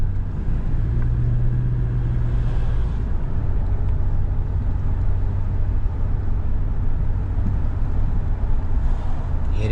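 A 2001 Mercedes ML430 with new brake pads drives slowly during a brake test, giving a steady, loud, low engine and road rumble throughout.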